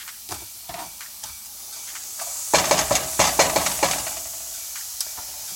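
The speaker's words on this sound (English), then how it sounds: "Onions are cooking." Chopped onion frying in a pan: a soft hiss with a few light taps at first, then louder sizzling bursts and stirring clatter from midway on.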